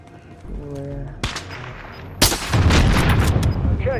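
Gunfire in Call of Duty: Modern Warfare, with a sharp shot or two before a loud burst of sustained firing under a rooftop attack, dense and close, with game voice and tones in the background.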